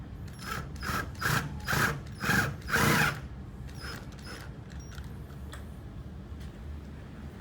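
Screws being tightened on a heavy duty lock set, heard as five or six close, rhythmic ratcheting bursts over about three seconds before the sound gives way to quiet room tone.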